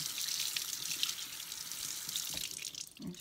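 Tap water runs steadily while a Breyer model horse is rinsed under cold water, a close hissing splash that thins and breaks up near the end.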